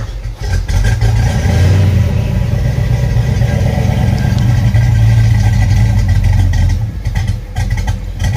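A Ford Mustang Foxbody engine runs steadily after a base idle reset, a loud, close, low rumbling idle with slight revving swells that holds for about seven seconds before easing off.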